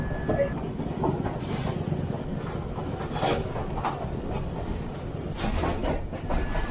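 A passenger train, the Sialkot Express in Pakistan, rolls past an abandoned British-era station at Begowala, heard from inside a nearly empty coach as a steady rumble with rhythmic clicks and occasional hissing bursts, continuous and fairly loud, with no talk.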